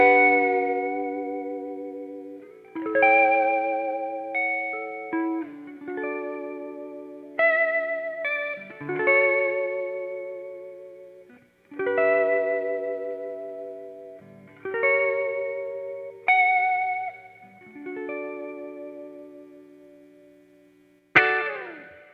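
An electric guitar runs through a vintage spring reverb pedal, playing a series of strummed chords and single notes. Each attack blooms into a long, splashy shimmering tail that fades before the next phrase, with no talking.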